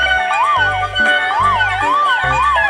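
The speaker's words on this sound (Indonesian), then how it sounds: "Ini ada mobil pemadam kebakaran." A toy fire truck plays an electronic wailing siren that rises and falls in steady cycles over a pulsing melody, loud and close, with no talk.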